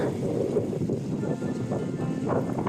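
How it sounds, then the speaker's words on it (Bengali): Steady, low rushing wind buffeting the microphone on Saint Martin Island, Bangladesh, with a faint motor-like drone underneath, continuous throughout without any voices. "আমার খুব ভালো লাগতেছে বাতাসটা"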